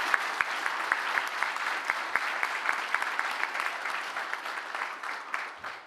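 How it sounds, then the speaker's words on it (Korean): Sustained applause from the audience at a public policy forum in Gangwon, Korea, steady dense clapping with a few sharper claps standing out, filling the whole stretch and tapering slightly at the end. "여러분들도 공감하시면 진성균 회장님께 감사한 마음을 담아서 큰 박수 부탁드리겠습니다."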